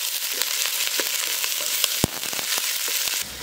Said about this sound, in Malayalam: കുറച്ച് പച്ചമുളക്, കുറച്ച് കറിവേപ്പില, ഇതെല്ലാം കൂടി ഇട്ട് നല്ലപോലെ മുരിക്കുക